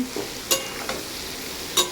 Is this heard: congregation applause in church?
no